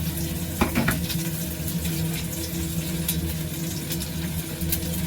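Steady crackling sizzle of shallots frying in hot oil, with a few brief utensil clinks and scrapes, no talking.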